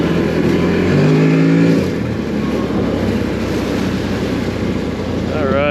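A CFMOTO Cforce 800 Touring ATV (2025) running over gravel, a steady engine drone mixed with rushing wind and tire noise, with a brief rise in engine pitch near the start and another climbing at the very end.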